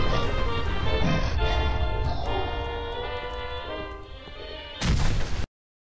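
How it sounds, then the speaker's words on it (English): Explosion in a British-made Fallout game mod: a loud, dense blast that rumbles on for several seconds, fading slightly, then a second sharp burst near the end before abrupt silence. "that second explosion was rude. That was unnecessary, did not need to happen."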